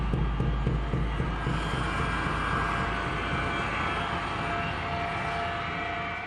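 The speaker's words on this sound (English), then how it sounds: "the flight, call sign Cactus 1549, is cleared for takeoff" Airliner Flight 1549, call sign Cactus 1549, roars on takeoff, a loud, steady jet engine rumble with no voices.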